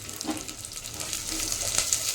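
Chopped capsicum frying in a pan, a steady close sizzle with soft stirring scrapes through the short stretch, no voices.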